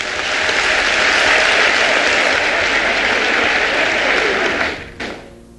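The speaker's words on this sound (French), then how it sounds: "Applaudissons-les." An audience at a political party gathering breaks into loud, sustained applause, a dense wash of clapping that holds steady and then tapers off near the end.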